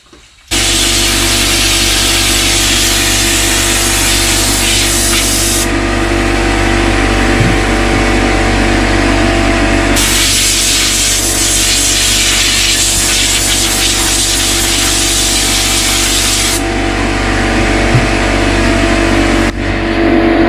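Compressed air blowing out a K&N air filter, a loud, close, continuous hiss that stops and restarts in long bursts, with faint clicks in between.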